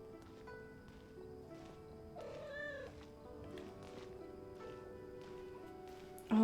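A pet cat meows faintly in a quiet room, one drawn-out wavering meow in the middle among softer scattered sounds, beneath a steady low hum from a game.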